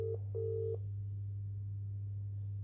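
A phone line rings out while calling a council solicitor: two ringback tone bursts, one short then one longer, over a steady low hum, followed by quiet line noise.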